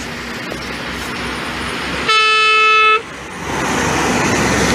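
A truck on a Brazilian highway gives a single steady horn blast of about a second, loud and close over constant roaring road traffic, with no talking.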